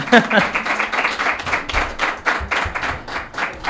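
An audience applauds at a poetry book presentation, a run of uneven hand claps that swell and fade in ragged bursts for several seconds, fairly close.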